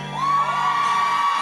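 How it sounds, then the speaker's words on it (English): A crowd of women screaming at a live reggae concert at Unifest 2017, one loud sustained roar of high-pitched shrieks and whoops. "Ladies, if you are here, scream."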